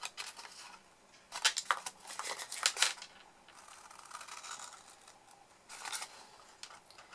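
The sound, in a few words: cutting corners off a card egg box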